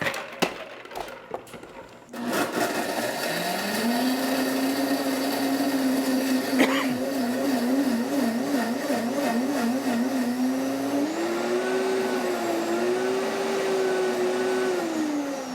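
A kitchen blender runs steadily while blending a sugar syrup mixture, a loud motor whir that starts abruptly and holds, its pitch rising and wobbling as the contents churn, with no talk.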